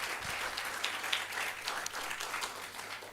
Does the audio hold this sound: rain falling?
no